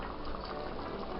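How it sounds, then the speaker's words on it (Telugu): Egg curry (Andhra egg pulusu) simmering in a pot on the stove, giving a steady, close bubbling hiss that stays even throughout. "1 నిమిషం పాటు ఉడకనిచ్చి స్టవ్ ఆఫ్ చేసుకోవాలి"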